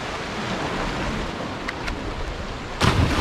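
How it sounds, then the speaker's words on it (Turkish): Light rain falls outdoors on an island under an overcast sky, a steady broadband hiss throughout with no voices, swelling into a louder burst near the end. "İnce ince yağıyor ve havanın abi, kapalı olduğu çok belli."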